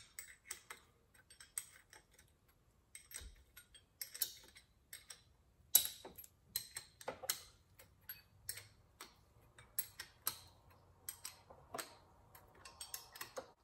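A torque wrench tightens the power steering pump bolt on a Porsche 944, with quiet, sharp clicks and ticks repeating unevenly in a near-silent space.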